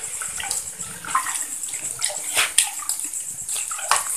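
Water pours and splashes continuously, a bright rushing stream with uneven sloshing surges, close and fairly loud.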